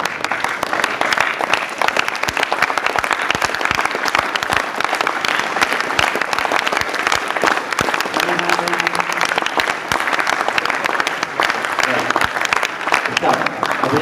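A yoga class claps together while doing squats, a dense, continuous patter of many hands that sounds like sustained applause filling the room, with faint voices underneath.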